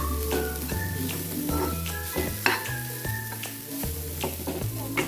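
Spices such as coriander and cumin frying in hot oil for a traditional Karnataka pathrode preparation, a steady close sizzle with stirring scrapes and occasional clinks of a utensil against the pan, no talking.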